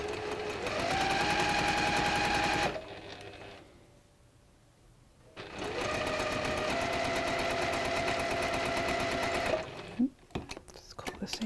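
Domestic sewing machine stitching a quilt square onto sashing, with two long close runs of fast steady whirring separated by a quiet pause, followed by a few clicks as the machine stops.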